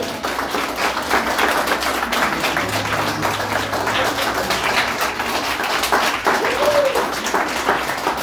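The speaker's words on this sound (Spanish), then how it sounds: "Den un aplauso bien grande." A church audience gives a long, dense round of applause, a continuous wash of many hands clapping at even loudness throughout.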